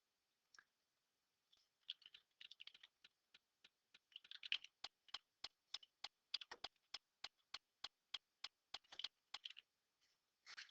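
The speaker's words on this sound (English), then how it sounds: "So I go to Wolfram alpha and I type that in." Fingers tap out a query on a computer keyboard, a run of crisp, quiet clicks in uneven bursts, then a steadier rhythm of separate keystrokes, close and isolated against silence.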